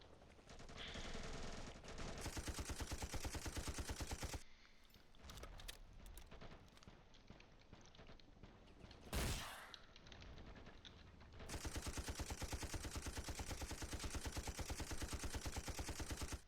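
Sustained covering fire in the Ravenfield war game on a Vietnam map, a dense, continuous rattle of machine guns and rifles with one brief heavier blast partway through, no talking.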